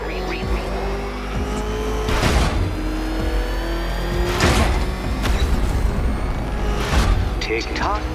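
The Batmobile in Batman: Arkham Knight roars as it revs and races, with rising engine surges and screeching tires recurring every couple of seconds, under ongoing in-game talk.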